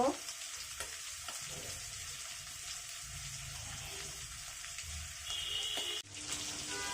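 Shrimp fry in a pan for a mustard-prawn dish, a continuous soft sizzle with faint stirring clinks, steady and fairly quiet, without speech.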